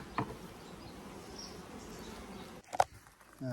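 Honey bees at a Langstroth hive on a UK bee farm give a steady, moderate hum that runs unbroken, with a couple of brief knocks and rustles near the end.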